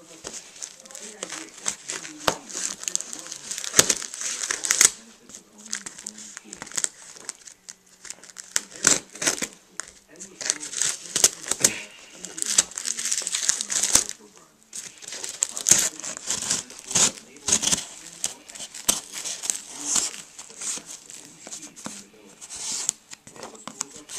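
Scissors snip and crinkle at packing tape up close, in repeated bursts of cutting and crackling with short pauses between.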